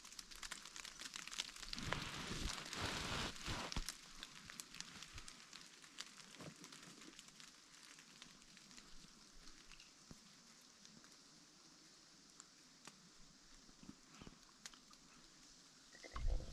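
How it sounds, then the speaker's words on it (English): Rain falls through trees near an off-grid cabin in a Saskatchewan forest, a steady close patter of drops on leaves and gear, louder early then softer, with occasional sharper drips and rustling. "Got caught in the rain here a little bit, so I'm a little bit wet."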